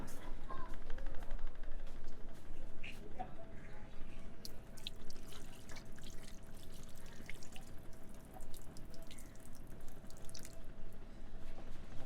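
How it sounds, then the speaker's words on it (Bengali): Water runs and drips at a small basin as hands are washed at a riverside spot beside the Meghna River, with a continuous splashing wash under background voices and ambient bustle, moderately faint. "আগে যাই, হাতটা ধুয়ে নেই। এখানে ছোট্ট একটা বেসিন আছে।"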